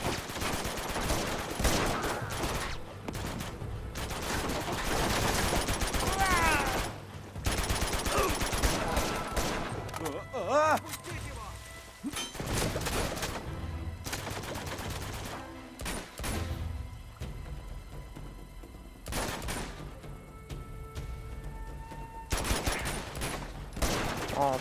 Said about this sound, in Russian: А, тут тоже стреляют.